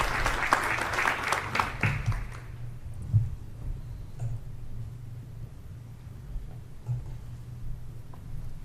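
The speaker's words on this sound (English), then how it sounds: "And now you can applaud wildly." A room full of people bursts into loud applause at a panel event, clapping hard for about two seconds before it thins out and fades into quiet room noise.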